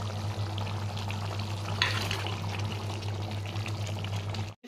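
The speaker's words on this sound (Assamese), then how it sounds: "মাছ ফ্ৰাই কৰিম এতিয়া" Fish fries in a hot pan in a home kitchen, giving a steady, close sizzle with a brief louder crackle partway through, heard alone without talk.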